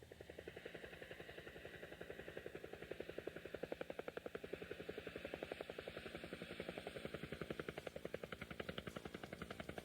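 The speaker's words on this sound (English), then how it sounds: "This game puts you right in the cockpit of a very fast and very powerful helicopter." A fast, powerful helicopter from the LaserActive game High Roller Battle, heard from the cockpit: a steady rapid rotor chop throbbing without a break, loud and alone.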